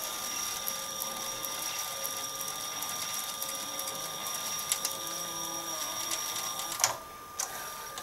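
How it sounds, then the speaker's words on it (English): A Sharp VC-MH75 VHS player, opened up for a teardown, whirs steadily as it rewinds a tape, with faint mechanical ticks throughout and a clunk near the end as the motor stops. "There's the tape fully rewound."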